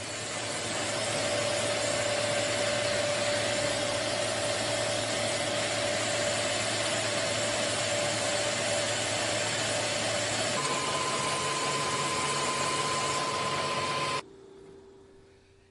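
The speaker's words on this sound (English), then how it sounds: "I'm just going to hold it here next to the face mill while it's machining off that layer until I get down to some bare metal" A face mill on a K&T 2HL milling machine cuts a rust layer off a steel camelback straight edge, giving a loud, steady, close grinding whir with a constant tone that stops abruptly near the end.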